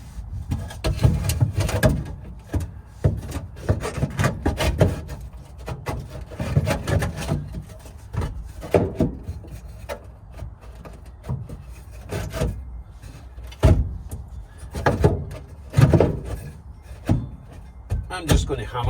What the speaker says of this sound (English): I'm going to try jamming a chunk of wood down there, nice and tight